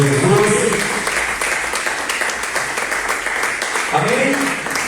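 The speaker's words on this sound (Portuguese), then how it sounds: "aplauda bem forte ao Senhor Jesus" Congregation clapping at a church service, sustained broadband applause filling the room, with voices speaking and calling out over it throughout.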